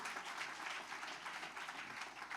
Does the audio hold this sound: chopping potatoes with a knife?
no